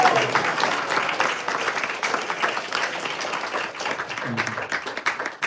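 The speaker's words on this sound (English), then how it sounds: "please give a big, big round of applause." Sustained audience applause at a Sunday spiritual class, a dense wash of many hands clapping steadily throughout, moderately loud with no voices over it.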